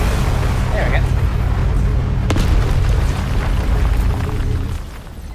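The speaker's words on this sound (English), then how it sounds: "Sorry about the explosion." An explosion in the Mass Effect Legendary Edition shooter rumbles as a loud, sustained low boom with crackling debris, rolling for several seconds before fading out at the end.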